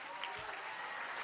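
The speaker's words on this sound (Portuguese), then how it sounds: "Fica de pé e dê um aplauso de 1 minuto." Brief burst of dense applause from a standing church congregation, steady and fairly soft, heard as a continuous wash of clapping.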